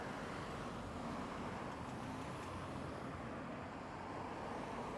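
Cars passing on a road make a steady, dense roar of traffic noise with no clear gaps between vehicles. No one speaks.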